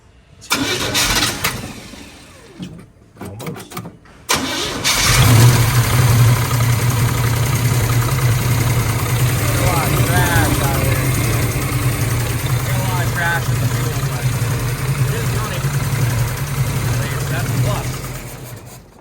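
A Chevrolet Squarebody truck engine cranks a few times, catches, and settles into a steady, loud rumbling idle that continues to the end.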